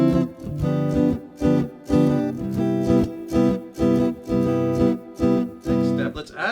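Guitar strumming a movable minor 9 bar chord voicing in a jazzy blues rhythm, repeated percussive strums with short choked gaps, close and unaccompanied.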